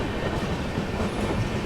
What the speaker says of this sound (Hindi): Well, the train is actually skipping.